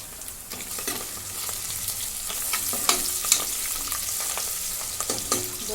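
Mutton pieces hitting hot oil in a pan where onions were just roasted, giving a steady close sizzle with louder crackling pops and spatula scrapes as the meat is turned.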